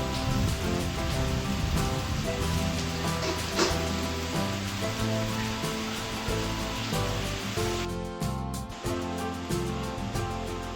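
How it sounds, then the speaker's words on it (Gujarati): Steady heavy rain pours down outdoors in a Gujarati village during a thunderstorm, a dense, continuous wash of drops that stays loud throughout, with no voices. "વરસાદ ચાલુ થઈ ગયો છે પાછો"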